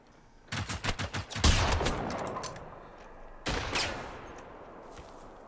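Enemy gunfire in a video game: a fast string of close, sharp shots followed by a heavier blast, then a single later report and fading echoes.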